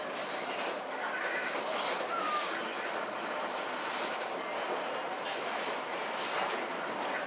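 Heritage train rolling along an early Chattanooga railroad line, the steady rumble and faint clatter of railcars heard from on board at an even level.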